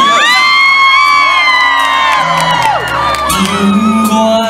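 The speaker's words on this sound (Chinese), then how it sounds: "全场的尖叫声再来一次，好不好？" A large outdoor concert crowd at a seaside music festival in Pingtung screams, whoops and cheers loudly and continuously, a dense roar of many voices with shrill individual shouts rising above it.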